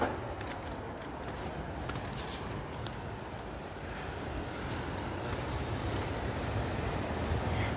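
Sea waves wash along the East Coast shore as a continuous broadband surf roar, steady and fairly soft, mixed with some wind buffeting the microphone.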